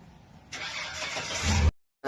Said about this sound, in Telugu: బండి ఇది గేర్ బండి గేర్ బండి జిఎంసి అంటే ఇది చాలా పాత మోడల్ బండి ఇది